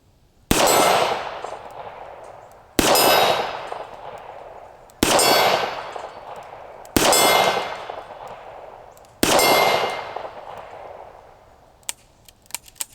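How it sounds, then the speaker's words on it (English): Five shots from a Ruger SP101 revolver firing .38 Special ring out against steel targets about 35 yards downrange, each a sharp metallic clang with a long ringing decay, evenly spaced and alone. "We'll shoot a few more of these 38 specials out there at 35 yards"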